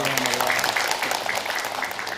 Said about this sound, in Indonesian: Tepuk tangan Bu, Masya Allah